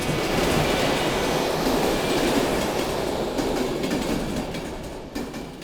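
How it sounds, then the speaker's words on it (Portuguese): A train thunders past close by, a loud sustained roar of wheels and rail clatter that fills the whole stretch, easing slightly toward the end. "Todos nós abraçamos a terra enquanto o trem passava trovejando."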